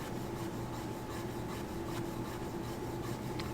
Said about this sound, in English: then just take it and roll it around to a clean side, and then scrub that area.